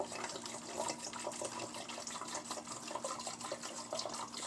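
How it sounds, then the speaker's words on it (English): Salt water for a phytoplankton culture is poured into a 2-liter bottle, a faint, continuous trickling and splashing throughout. "Still not equal, so keep pouring some more."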